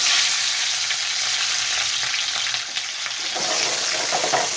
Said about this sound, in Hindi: ऑयल गर्म हो चुका है, अब हम हरी मिर्च डाल लेंगे।